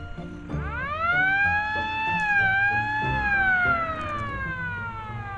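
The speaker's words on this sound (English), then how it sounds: "The siren is for us so that we know they're coming." A siren at a cattle drive with ATVs wails up in pitch, holds a long rising-and-falling tone, then slowly winds down, loud and fairly close over faint background noise.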